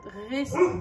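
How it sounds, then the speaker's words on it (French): A pet dog making odd noises, one short, close, whining bark-like yelp lasting under a second. "C'est mon chien ça, qui fait des bruits bizarres."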